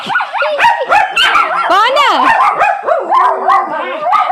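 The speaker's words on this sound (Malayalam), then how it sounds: "അതുകൊണ്ട് നോക്കുന്ന അങ്ങോട്ട് നോക്കിക്കൊണ്ടേ കുരയ്ക്കുന്നത് മൊത്തം" A dog barks, yips and whines in a rapid, continuous run, loud and close, with the excited calls rising and falling in pitch throughout.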